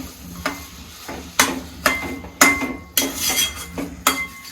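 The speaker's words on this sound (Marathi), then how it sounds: "जोपर्यंत गूळ आणि आपलं खोबरं एकजीव होत नाही तोपर्यंत याला चांगलं परतून घ्यायचं आहे" Jaggery and coconut being stir-fried together in a pan, a spoon striking and scraping the metal in a regular series of sharp clinks and scrapes over a faint sizzle, close and clear with no talking.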